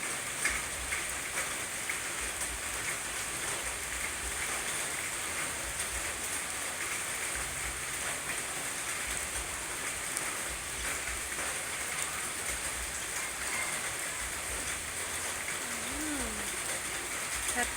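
Steady morning rain falls over a rural area with coffee and mango trees in bloom, a constant broadband hiss throughout, with a brief faint bird call near the end.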